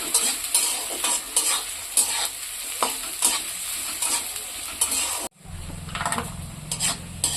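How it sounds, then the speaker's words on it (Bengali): Chopped onions sizzle steadily in a pan for an egg bhujia, with rhythmic stirring scrapes. A brief break comes near the end, then the frying continues with a lower hum. "পেঁয়াজ কুচিগুলো ভাজা করে"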